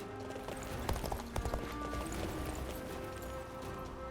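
Horse hooves clip-clop in the Dynasty Warriors Origins video game, a quiet, steady trotting rhythm layered over sustained background game tones.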